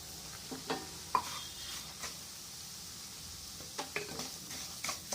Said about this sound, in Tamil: ரவையை வந்து நல்லா வறுத்துக்கிறோம் நெய்யிலேயே வறுக்கணும்